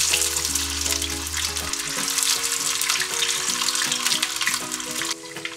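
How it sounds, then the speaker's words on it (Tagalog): Pieces of fish frying in a pan over medium heat give a steady, close hiss and crackle of hot oil, carrying on unbroken from start to finish with no voices. "Pirituhin natin yung pati into medium heat."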